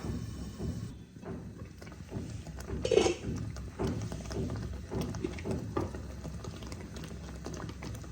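Tomato puree cooking in a covered pan, bubbling and spitting softly at low volume with a few faint clinks of the pot, no talking.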